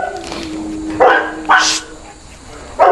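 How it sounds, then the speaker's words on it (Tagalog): A dog barks nearby indoors, three sharp, loud barks spaced about half a second to a second apart, over a faint steady background hum. "Sorry guys, maingay yung aso."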